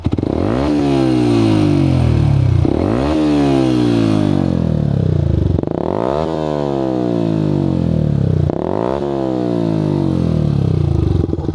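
A Yamaha M-Slaz 150 motorcycle with an Akrapovic-style exhaust with kevlar tip revs hard and high toward 9,000 rpm, rising in pitch several times in repeated sweeps, loud and close with no talking.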